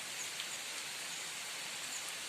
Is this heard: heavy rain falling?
yes